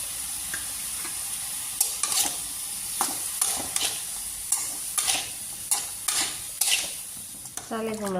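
Ash gourd (chal kumra) frying in a pan with a spatula stirring it, scraping the pan in repeated strokes over a steady sizzle. The scrapes come closer together toward the end, with no voices.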